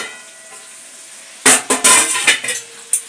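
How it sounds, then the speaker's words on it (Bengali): A lid comes off a cooking pot of dry fish with a sharp metallic clatter, followed by a few scraping clinks and a soft sizzle, close and loud after a quiet start. "ঢাকাটা খুলছি"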